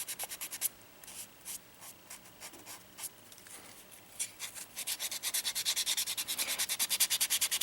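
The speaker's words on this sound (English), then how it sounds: "Now this tutorial is going to be about the sanding" A polymer clay ball-jointed doll head being sanded by hand: quiet, scratchy rubbing strokes, sparse and uneven at first, then settling into a fast, regular back-and-forth rhythm, close up with no talking.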